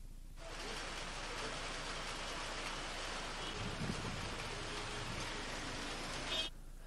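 Rain falls steadily in Mussoorie as a dense, even hiss that starts abruptly and continues throughout, with a faint low rumble partway through and no voices.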